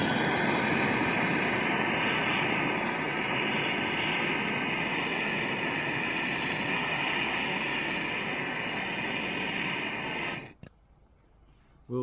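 A gas torch roars steadily and loud while heating a seized bolt on a Ford Transit tilt-and-slide truck, a continuous broad hiss that cuts off abruptly near the end, leaving quiet.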